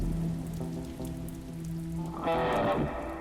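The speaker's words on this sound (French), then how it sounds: "la mousson a éclaté" Monsoon rain falling steadily in northern Vietnam, a continuous wash of drops that swells louder toward the end, with faint tonal background sounds underneath and no talking.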